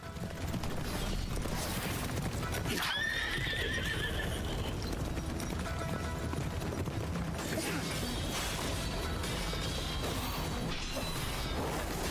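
In the video game Phantom Blade Zero, horses whinny shrilly over continuous clip-clopping hooves and clanking mechanical noise, a dense, loud game soundscape with repeated neighs.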